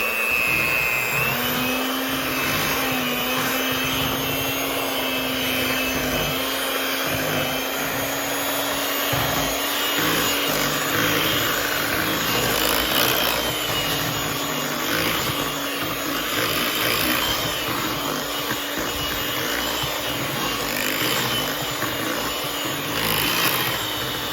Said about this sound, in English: We're going to do one last mix with the mixer. It's going to be very thick.